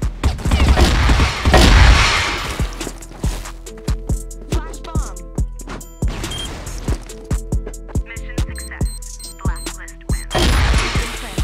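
An M4 rifle in a shooting video game fires in quick pairs of shots, a repeated double-crack rhythm across the clip with louder bursty stretches near the start and end; no voices.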